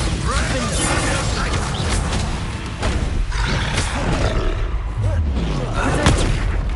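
Bombarda spell blasts in Hogwarts Legacy combat: a loud, dense roar of crashing explosions and impacts layered over game music and effects, with a heavy rumble throughout and a sharper burst near the end.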